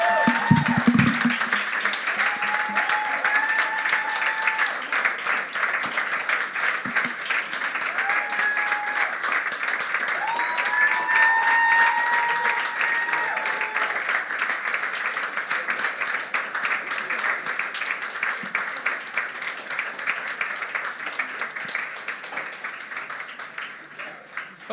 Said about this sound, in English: I thought we would clap better than that.